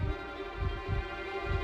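A heartbeat sounds from inside a sphere: three or four low, muffled thumps in a steady rhythm over a constant hum.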